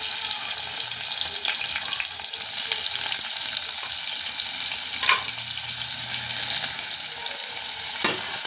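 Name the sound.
vegetables frying in oil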